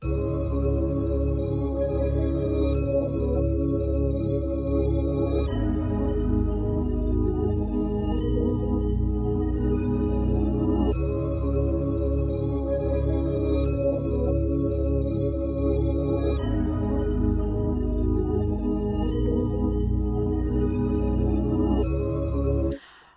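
A smooth, mellow R&B-style loop of layered synth chords and bass repeats steadily, warm and continuous, ending abruptly with no voices.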